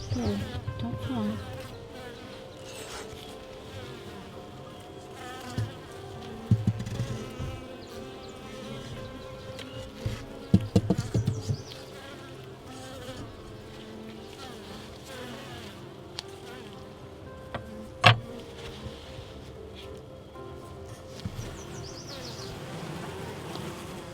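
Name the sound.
honey bees buzzing around the hive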